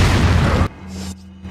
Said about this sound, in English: Let's toss a grenade at these boys.